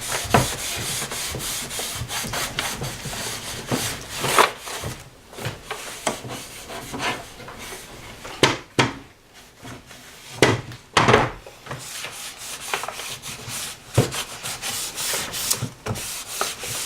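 A cloth wipes sawdust from a sanded wooden bathroom vanity, making repeated rough rubbing and brushing strokes in an irregular rhythm, with occasional light knocks of wood, close and fairly quiet, with no talking.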